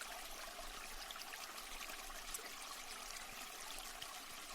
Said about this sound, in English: You stop for a moment because you hear the sound of running water.